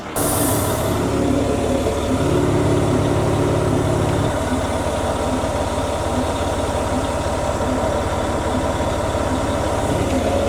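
An MTVR 6x6 military truck idling, a steady loud diesel rumble with a short hiss at the start and a slight shift in engine note partway through, no talking.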